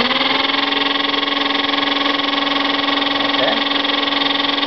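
A 7 kW Colossus electric motor running on a test bench, a loud steady droning whine with a constant tone throughout and a brief pitch sweep near the end.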